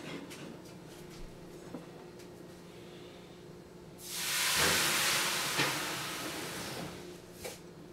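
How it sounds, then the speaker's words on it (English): A sudden loud hiss of steam bursts up as water is dumped into a hot oven broiler while baking artisan bread, after quiet kitchen background, then slowly fades, with a few small clunks nearby. "I'm going to dump the water into the broiler to create steam"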